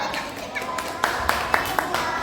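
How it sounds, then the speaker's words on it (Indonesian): A Grade 2 class in a school physical-education lesson claps for group 3, with a few sharp, separate claps standing out over a busy room of children's chatter. "tepuk tangan untuk kelompok 3"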